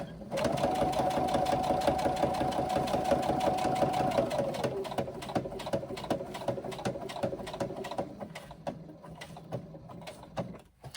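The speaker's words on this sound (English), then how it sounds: "we are going to now stitch across the bottom" A sewing machine stitches steadily across the bottom of a fabric pouch, a fast continuous whirring run that slows into a few short bursts and single stitches near the end.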